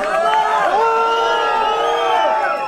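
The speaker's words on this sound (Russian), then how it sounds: "Магомед Исмаилов, больше аплодисментов, друзья." Loud arena crowd at an MMA event cheering, whooping and shouting together in a continuous roar, with clapping and raised voices throughout.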